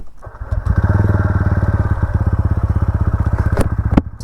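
A TVS Ronin 225 motorcycle engine on an off-road ride starts up and holds a loud, close, rapid pulsing throb. Its beat stays even for several seconds, with a sharp crackle near the end.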